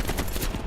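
Brief burst of rapid gunfire in the video game Call of Duty: Black Ops Cold War, dense and loud with several closely spaced shots in under a second.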